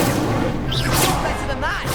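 A fire spell cast in the video game Hogwarts Legacy bursts out in a loud, dense whoosh of flame amid game effects, with a character's voice calling out over it.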